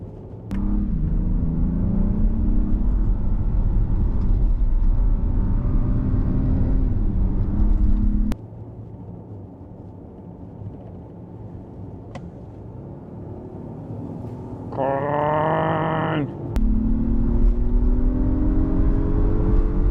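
An Audi Q7, Acura MDX and Volvo XC90 accelerate hard in a drag race, with a loud, close engine roar that rises through the gears, drops back after shifts and climbs again, alone without talk.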